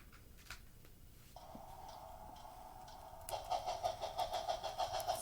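A worn HO scale model steam locomotive runs with a faint motor whine that starts after a moment, then breaks into a quick, regular rattling pulse, all at low volume with no talk.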